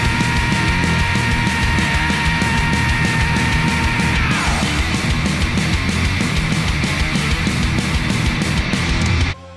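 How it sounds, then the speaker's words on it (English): Thrash metal from a Nagoya band, a loud, dense wall of distorted guitars and pounding drums running continuously before cutting off abruptly at the end. "They're a thrash band, and they sound like this."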